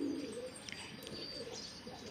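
Soft, low cooing from pigeons on a rooftop, faint and close-ish, a gentle throaty murmur over quiet background.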